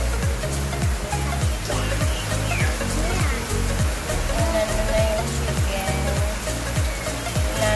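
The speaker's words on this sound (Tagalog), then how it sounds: "Lakas ng ulan." Heavy rain pours down steadily at a rural home where a chicken is being plucked, a dense, loud wash of noise throughout with a repeating rhythmic knocking beneath it.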